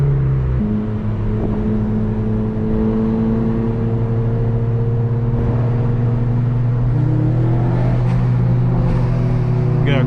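Loud cars at a car show rev and idle nearby, sustained engine drones shifting in pitch as throttles rise, with brief crackles layered over a constant rumble.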